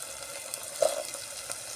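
Okra frying in coconut oil in a pan, giving a soft, continuous sizzle with faint crackles, steady and fairly quiet with no voices.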